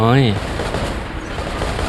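Robot weapons firing in the War Robots video game, a short burst of rapid shots over a noisy battle backdrop, with a brief rising tonal whine at the start.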